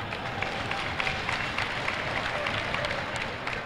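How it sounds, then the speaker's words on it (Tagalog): Audience applause at a political issues forum, a steady broad wash of clapping from a large crowd lasting several seconds with no voices on top. "Siguro gusto niyong pumalakpak."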